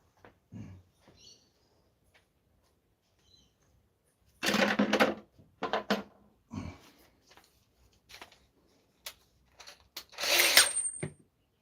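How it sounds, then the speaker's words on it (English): A power drill whirs in a few short bursts, the longest around two seconds, separated by quiet pauses and small handling clicks. "Drill a hole in every section of the grid"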